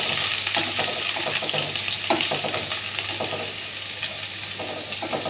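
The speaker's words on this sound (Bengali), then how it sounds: "এটাকে হালকা করে একটু ভেজে নেব" Ginger and garlic paste sizzling in a hot pan, a loud continuous crackling fry with occasional stirring scrapes, close and steady throughout with no voices.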